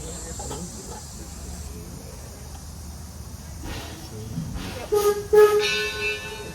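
A heritage passenger train at Greenfield Village pulls away from the station with a soft continuous hiss, then brief whistle-like tones and clanks build toward the end at moderate distance.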